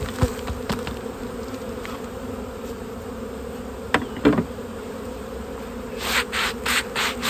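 Continuous buzzing of many honeybees being shaken out in front of a hive fills the air, with occasional sharper buzzes passing close and a few rustling taps near the end.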